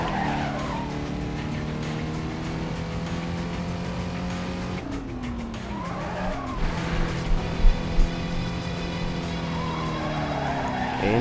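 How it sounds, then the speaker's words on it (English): Sustained tire squeal from a car drifting in the racing game Need for Speed: Carbon, with a revving engine underneath; the screech holds, breaks briefly mid-run, then returns, loud and continuous. "And drift again."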